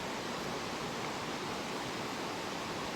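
A river rushes in a steady, broadband wash of flowing water, loud and continuous, with no voices.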